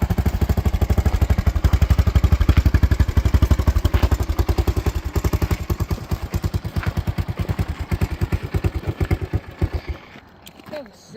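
A 1983 Honda ATC200X three-wheeler with a swapped engine runs with a loud, close, steady putter, then slows into uneven chugging pulses and stops near the end.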